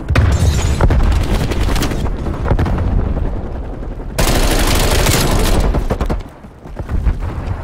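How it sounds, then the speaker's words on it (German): Grenade blast and gunfire in Call of Duty Black Ops Cold War multiplayer, loud and near: dense rattling shots, a sharp explosive burst midway, then further firing. "Granate."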